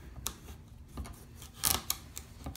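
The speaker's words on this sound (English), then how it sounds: "I'll start by cutting off the top" A sharp knife cuts the top off a spaghetti squash, giving a series of close, crisp snips and crunches at irregular intervals, with no talking.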